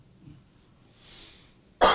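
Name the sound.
cough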